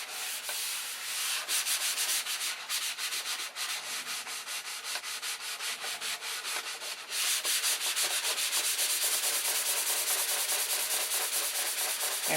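Sandpaper rubs primer on a model airplane in steady back-and-forth strokes, a close, continuous dry scraping that grows a little louder partway through, with no voices.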